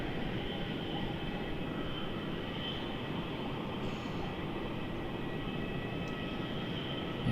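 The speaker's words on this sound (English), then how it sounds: "The Jetstar aircraft just landed." A Jetstar airliner just after landing at Melbourne Airport, a steady distant jet engine roar with a broad, even rumble and faint high whine that holds level throughout, heard from a spotting position with no talk.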